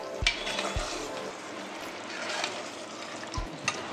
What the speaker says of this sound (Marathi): याला आता व्यवस्थित फ्राय करतोय आम्ही।